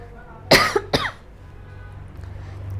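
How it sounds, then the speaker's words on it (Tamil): A woman with a throat infection coughs twice in quick succession, loud and close, and then the room goes quiet with a faint hum. "கொஞ்சம் த்ரோட் இன்ஃபெக்ஷன்ஸாக இருக்கிறதுனால கொஞ்சம் கண்டினியூஸாக பேசும்போது இருமல் வருது"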